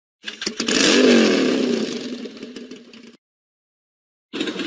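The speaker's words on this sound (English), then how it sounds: "Motorcycle." A motorcycle engine starts and revs up loudly, holding a throaty roar that slowly fades for about three seconds, then drops to silence before another burst begins near the end.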